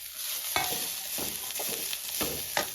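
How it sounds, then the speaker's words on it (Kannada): Masala being fried with grated coconut in a pan for holige sambar: a soft sizzle broken by about five rhythmic scraping stir strokes, close and moderately loud. "ಕೊನೆಗೆ ಕೊಬ್ಬರಿ ಹಾಕಿಬಿಟ್ಟು ಮತ್ತೆ ಫ್ರೈ ಮಾಡಬೇಕು."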